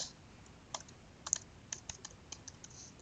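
Fingers tap on a computer keyboard in a short, uneven burst of light clicks, close and faint, with no voices.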